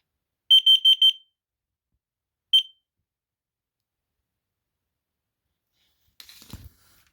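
A smoke and carbon monoxide alarm with a built-in battery, being reset, lets out four rapid shrill beeps, then one more beep after a pause, followed by a brief rustle and a low thump.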